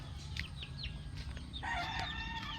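Chickens from a breeding batch cluck in short bursts nearby, then break into a longer, harmonic crowing call near the end of the brief moment.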